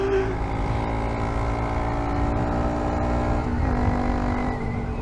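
A 2023 Honda Monkey 125 motorcycle with an aftermarket exhaust drones steadily and loudly while riding, a low continuous engine note with slight pitch shifts throughout.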